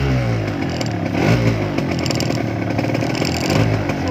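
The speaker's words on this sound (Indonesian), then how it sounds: "Kita lanjut untuk pengecekan suara mesin." A 2009 Yamaha RX King two-stroke motorcycle engine runs loud and close for about four seconds, a steady raspy idle with a slight rise in revs near the middle and no voices over it.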